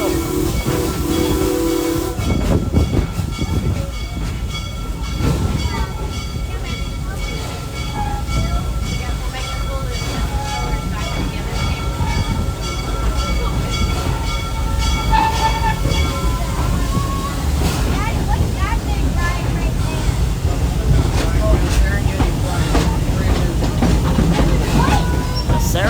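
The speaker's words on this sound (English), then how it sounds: "we do have to pull the horn," A train ride passing through a dark tunnel at Busch Gardens, with a rumbling, hissing train, horn and whistle blasts echoing near the start, and people talking over the noise.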